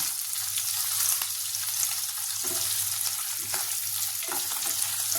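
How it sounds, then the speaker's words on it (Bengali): Paneer frying in a hot pan with cardamom, cinnamon and bay leaves, giving a loud, steady sizzle that runs the whole time with faint stirring scrapes and no talk. "দুটো এলাচ, দারচিনি ও দুটো তেজপাতা দিয়ে পনিরটা আরেকটু আমি গরম করে নিলাম"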